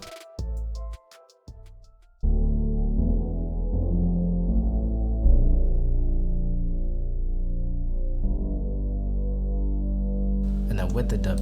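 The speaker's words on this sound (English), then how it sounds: "So this is the VW bass by itself." A VW bass synth patch plays alone inside a hip-hop beat remake of a song, a sustained, loud low rumbling tone that holds steady for most of the stretch after a few short choppy hits at the start.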